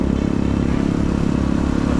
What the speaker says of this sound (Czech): Tady sjíždíme s ostatníma motorkářema